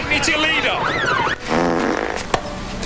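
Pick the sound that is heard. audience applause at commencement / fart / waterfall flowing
fart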